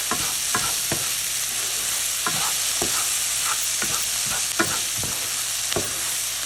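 Dhaba-style matar paneer ingredients sizzle steadily in a hot pan, with sharp scraping stirs and tosses recurring every half second or so, close and loud, no talking.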